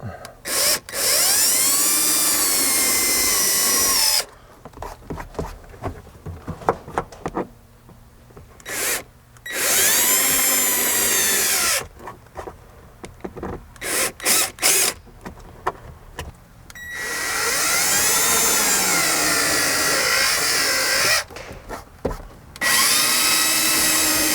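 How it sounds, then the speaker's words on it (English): A power drill whines loudly in long bursts, stopping and restarting several times with short pauses between as it enlarges holes in a MOLLE panel for 1/4 inch button head bolts. "finish drilling these out to accept a 1/4 inch button head bolt"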